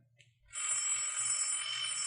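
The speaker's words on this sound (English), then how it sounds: "You want me to get the phone, Bill" A telephone bell at a ranger headquarters, in a 1950s radio drama, rings loudly and steadily without a break after a brief quiet moment.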